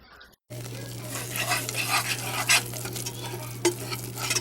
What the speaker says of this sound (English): once you got all the flour whisked in, it's still thin here.